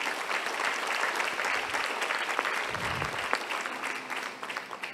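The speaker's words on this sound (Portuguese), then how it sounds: "Dá para dar glória a Deus aqui, igreja? Aplaude o Senhor," A church congregation claps during a Portuguese-language sermon, producing a dense, continuous wash of applause that thins slightly toward the end, with some low rumble mixed in.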